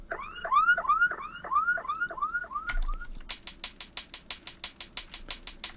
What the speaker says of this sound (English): One of my favorites, the police siren.